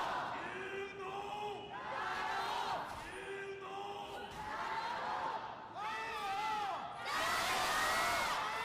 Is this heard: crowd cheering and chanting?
yes